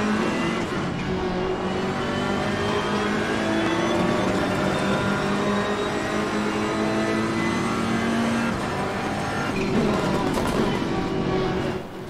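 A BMW race car engine roars steadily in Assetto Corsa Competizione, loud and continuous with rising and falling harmonic pitch as the car accelerates and shifts. Other cars run close alongside during an online multiplayer race, with no talk over it.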